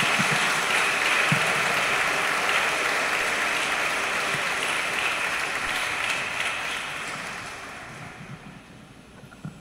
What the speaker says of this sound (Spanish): Un aplauso a nuestra beata.